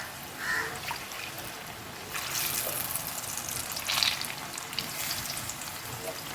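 Capsicum bajji frying in hot oil, a soft steady sizzle with faint bubbling that swells briefly in places, fairly quiet and alone.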